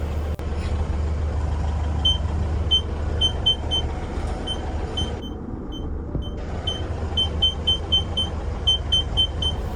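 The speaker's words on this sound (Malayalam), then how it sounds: "ആ ടി എന്ന് സൗണ്ട് ഉള്ള ബീപ്പ് സൗണ്ട് ഉണ്ടല്ലോ, പാർക്കിംഗ് സെൻസർ ആട്ടാ" A Tata Marcopolo Starbus LP 412/36 parking sensor beeps in rapid regular bursts while reversing, with a brief pause, over a steady low engine rumble.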